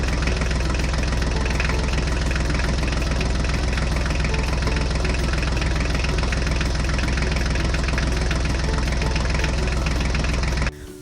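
A tractor engine idles and chugs continuously, loud and close with a rough knocking beat, while a toy Mahindra tractor hauls a dinosaur in its trolley; the sound cuts off abruptly at the very end.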